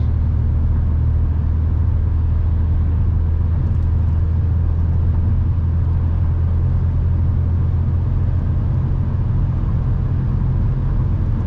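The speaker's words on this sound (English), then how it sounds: "This Jeep to my right is really starting to pick up and accelerate." Jeep accelerating on the road, heard from inside a nearby car as a loud, steady low rumble of engine and road noise that holds constant throughout.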